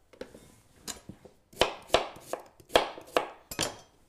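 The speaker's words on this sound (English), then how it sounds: "chop the sweet potato up" Sweet potato being chopped with a knife on a board for a sweet potato and white chocolate cake: a dozen or so sharp, close knife thuds in an uneven rhythm, with no talking.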